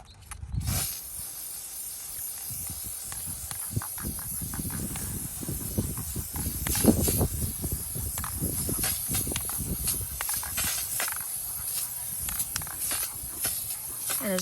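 Spray paint hissing from an aerosol can onto a tomato-cage Christmas tree, a steady hiss that keeps going over low handling noise and occasional bumps throughout.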